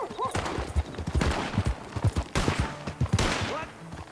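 Gunfire crackles in a rapid volley of sharp, close shots, several bursts scattered across a few seconds, with shouting voices breaking in over the shooting.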